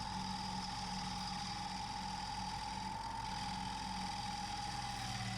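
A wood lathe spins a bowl blank at 1400 RPM, giving a steady, faint motor hum with a constant whine and low drone, unchanging throughout.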